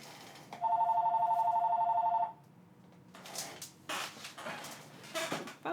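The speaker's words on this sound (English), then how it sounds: "Phone." A telephone in a music shop rings once in a single sustained electronic trill lasting about two seconds, followed by quiet room noise and soft shuffling sounds.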